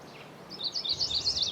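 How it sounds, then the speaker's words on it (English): A chestnut-sided warbler singing outdoors, a short run of bright, warbling high notes rising in loudness over about a second, heard alone at moderate distance. "Chestnut-sided warbler."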